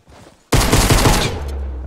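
Rapid automatic gunfire erupts in a Fortnite battle royale match, a loud, dense burst of shots starting abruptly after a brief quiet moment and continuing steadily to the end.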